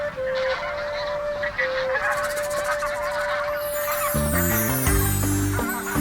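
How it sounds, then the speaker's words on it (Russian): Bean geese migrating near Lake Baikal toward the tundra give loud, repeated honks in flight, joined by a steady tone, with music rising underneath in the final seconds. "Гуси-гуменники летят с южноазиатских зимовок на гнездование в тундру."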